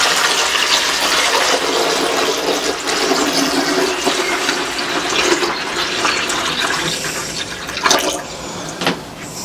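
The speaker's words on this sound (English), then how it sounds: "So now we pour water in." Water pours steadily into the reservoir of an Adexa portable ice maker, filling up to the max line. The gushing, splashing fill is loud and close, runs for about nine seconds with no voices, and ends with a couple of brief splashes.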